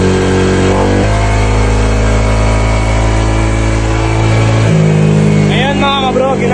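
A car engine running with no coolant revs loud and close, droning steadily, then climbs sharply in pitch twice as the throttle is blipped, with someone talking over it.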